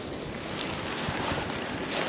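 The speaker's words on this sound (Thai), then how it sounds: "ลมแรงอย่างมาก" Strong wind gusts across the barren high-altitude Kongma La Pass trail in Nepal, a loud, continuous roar buffeting close to the microphone.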